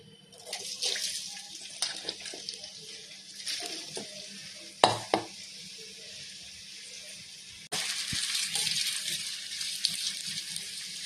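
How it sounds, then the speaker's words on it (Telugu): Bitter gourd pieces deep frying in oil, a soft steady sizzle that swells louder near the end, broken by a few sharp clatters from utensils. "ఇప్పుడైతే కాకరకాయ ముక్కలైతే ఇట్లా డీప్ ఫ్రై చేసుకోవాలి"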